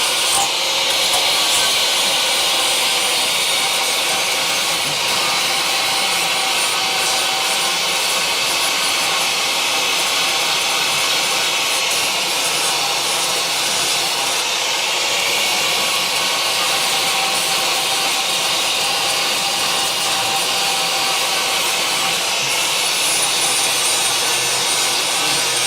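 An angle grinder works a car frame rail into shape on a Charger crew cab, a loud, unbroken high whine and hiss that holds steady for the whole stretch without pauses or talk.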